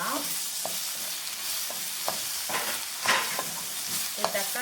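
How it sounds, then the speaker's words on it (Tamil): Onions sauté in a pan for kodo millet sambar rice, giving a soft continuous sizzle broken by several sharp scrapes and taps of the stirring spoon, close by and fairly quiet. "இப்போ பார்த்தீங்கன்னா வெங்காயம் நல்லா வதங்கிடுச்சு"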